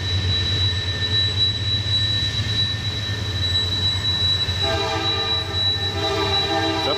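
Train rolling past at Horseshoe Curve, a steady close rumble of rail cars with a sustained high-pitched wheel squeal from the curve, joined partway through by a louder tonal horn-like blare.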